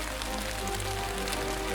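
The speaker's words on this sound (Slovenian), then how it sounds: "Odpreva okno in na najine dlani se vsujejo debele dežne kaplje" Heavy raindrops falling through an open window, a dense steady patter of rain on surfaces with a faint low hum beneath, no voices present.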